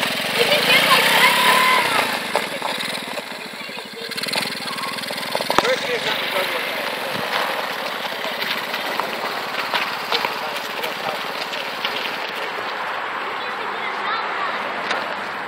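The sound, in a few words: small motor vehicle engine accelerating on a first ride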